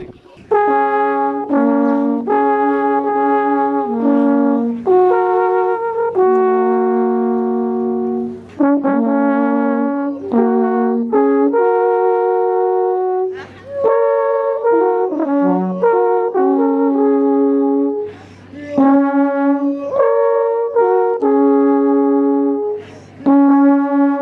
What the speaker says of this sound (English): This is the sound of Switzerland's instrument, the Alphorn, a symbol of tradition